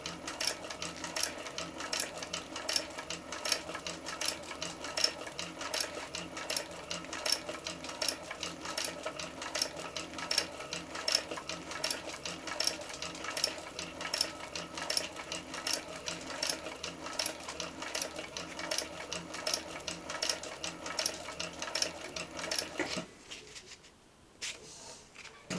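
A sewing machine stitches steadily through thick backpack foam, a continuous fast mechanical chatter that runs evenly and close before stopping abruptly near the end.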